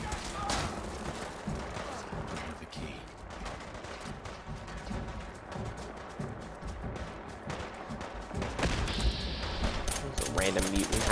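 Rapid, dense gunfire from the video game Fallout 4 rattles on without pause for the whole stretch, loud and chaotic, with bursts layered over one another.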